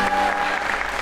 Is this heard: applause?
yes